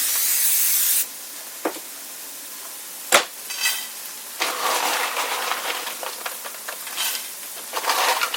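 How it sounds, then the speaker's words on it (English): A brief burst of aerosol cooking spray hisses once into a pan, followed by soft sizzling and clatter in the pan; a louder hiss opens the clip. "Spray your pan."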